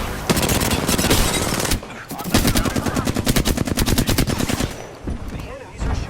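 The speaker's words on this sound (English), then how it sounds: "The enemies are shooting at me." Rapid automatic gunfire from enemies in a video game, dense bursts with a short pause, then sustained fast repeating shots, loud and close, with faint game noise around it.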